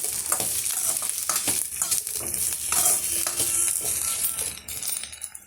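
Brinjal sautéing in a hot pan while being stirred, a steady close sizzle with scraping and clinking of the utensil against the pan throughout, no voices.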